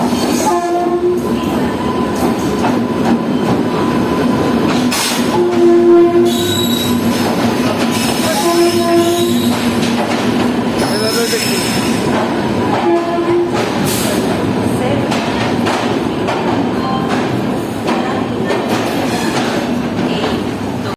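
The Lohit Express sits at platform 4 of a busy Indian railway station, next to a DMU train on the adjacent line. Loud continuous rail noise rumbles on, with repeated high metallic wheel squeals and tonal horn-like blasts over a steady hum.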